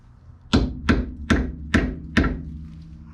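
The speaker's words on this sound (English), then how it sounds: "a good old copper hammer." A copper hammer strikes a brake part five times at an even pace, each blow a sharp, close metallic-wooden thwack with a short ring, separated by quiet gaps.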